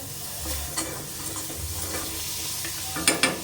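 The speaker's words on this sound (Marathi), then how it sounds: "इथे आपण 1 चमचा बटर टाकून घेऊया" A spoonful of butter sizzles softly on a hot tava still coated from egg bhurji as pav is warmed Mumbai street style, with faint steady frying, light stirring and a couple of sharp clinks near the end.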